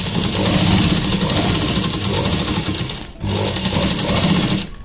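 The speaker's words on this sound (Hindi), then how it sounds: "इलास्टिक के ऊपर 2-3 उल्टी सीधी सिलाइयाँ मार के हमको इसको यहाँ पे पक्का कर देना है।" A sewing machine runs close and loud, stitching elastic onto a palazzo waistband in two steady bursts separated by a brief pause.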